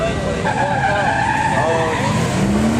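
A BMW E36 M3 skids on a race track, its tires squealing loudly and steadily for a few seconds under the engine noise, with voices faintly in the background.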